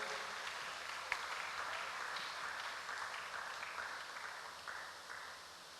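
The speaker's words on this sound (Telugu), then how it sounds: "అందరం కూడా సంతోషముగా చప్పట్లు కొడుతూ" A congregation in a cathedral claps steadily during a Holy Mass, a dense, even wash of applause that fades slightly toward the end, with no voices over it.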